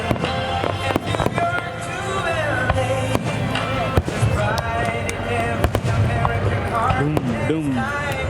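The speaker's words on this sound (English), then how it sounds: "Oh, so big. Fireworks." Fourth of July fireworks in Duluth, Minnesota boom and crackle continuously, loud and close, with repeated sharp bangs while people talk and exclaim in the crowd.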